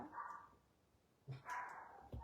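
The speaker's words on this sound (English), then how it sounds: "I'm looking after a dog here that is a real barker" A dog gives a couple of short barks and yips close by, with quiet gaps between them, in a home setting.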